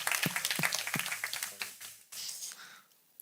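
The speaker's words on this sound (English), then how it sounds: "I think a round of applause is..." After a flight-sim landing at a FlightSimWeekend event, a small group gives a brief, light round of applause: a few distinct claps up front, then scattered quieter clapping that trails off.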